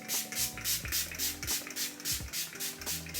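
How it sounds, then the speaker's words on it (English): Evo heat protectant spray is misted onto curly hair in a quick series of soft, hissing spritzes, quiet and close, over faint background music. "this is the heat protectant spray from Evo"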